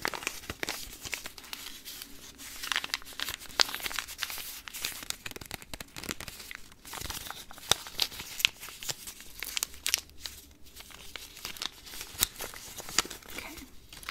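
Origami paper being folded, opened and creased again by hand, a steady run of close, soft crinkling and crisp paper rustles with sharper snaps of creasing scattered throughout.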